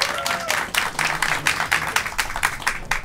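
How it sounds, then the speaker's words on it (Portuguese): Comedy show audience breaking into sustained applause, dense rhythmic clapping from many hands rising and falling in waves, loud and close with no talk over it. "me aplaudam também mais um pouquinho"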